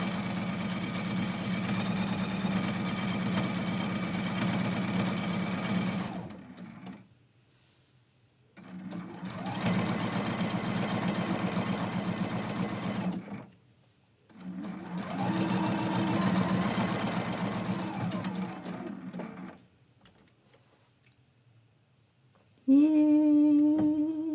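Sewing machine stitching a basting stitch through a quilt block, running in three steady bursts of several seconds each with brief pauses between, close and fairly loud, then a short higher whir at the end.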